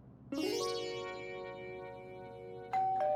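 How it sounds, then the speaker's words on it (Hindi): A doorbell rings with a sustained electronic chime that slowly fades, then sounds again briefly with two quick tones near the end. "घंटी बजाऊं घर की?"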